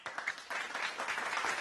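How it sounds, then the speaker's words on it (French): An audience at a formal financing agreement signing gives brief, soft applause, a short burst of scattered clapping at moderate distance. "vos applaudissements pour les féliciter, les remercier de leur intérêt"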